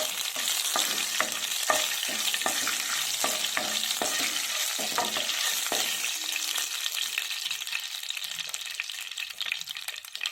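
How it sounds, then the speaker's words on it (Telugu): Black peppercorns frying in hot ghee in a pan for temple-style ven pongal, a dense close sizzle with scraping stirs and clicking spoon strokes, easing into a steadier hiss toward the end, with no talk. "ఇప్పుడు మిరియాలు వేసేసుకున్నాము. బాగా ఫ్రై అవ్వాలి"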